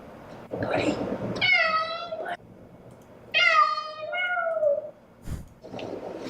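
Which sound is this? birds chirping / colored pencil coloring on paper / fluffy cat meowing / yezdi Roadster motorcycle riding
fluffy cat meowing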